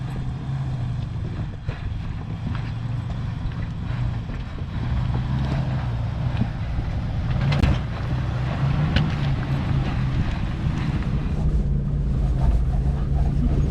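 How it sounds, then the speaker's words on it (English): A jeep grinds over Pearl Pass, a mountain pass near Aspen, Colorado, as a steady loud engine rumble mixed with wind buffeting the microphone and occasional knocks. "today, the first day of our honeymoon, we are up jeeping over Pearl Pass"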